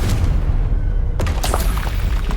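Confringo fire-blast spell going off in the Hogwarts Legacy video game, a loud booming burst over continuous rumbling game noise, with a sharp crack and a few following bursts.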